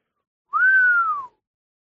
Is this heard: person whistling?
yes